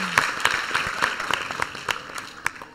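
A studio audience applauding, a thin, uneven patter of hand claps from a modest crowd, with sharper individual claps popping out over the steady clapping.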